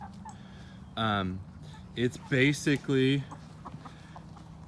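Chickens cluck in a hoop house holding roughly 15 to 20 birds, a few close, harmonic calls rising in quick bursts over a quiet background, with a brief spoken phrase nearby.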